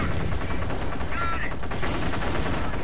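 Gunfire rattles in a Company of Heroes battle, with rapid bursts of shots over a dense rumbling backdrop of distant combat, loud and continuous with no voices on top.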